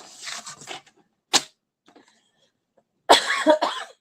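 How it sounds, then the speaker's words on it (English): A person coughs sharply a few times, close by, with quiet gaps between the bursts. "Excuse my cough"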